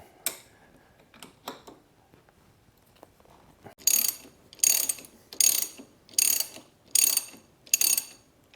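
A breaker bar ratchet works on the crankshaft nut of a KTM/Husky two-stroke motorcycle: a few scattered clicks, then six evenly spaced bursts of sharp ratcheting close to the microphone.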